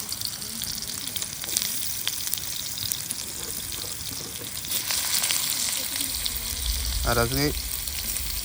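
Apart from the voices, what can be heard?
whole potatoes frying for biryani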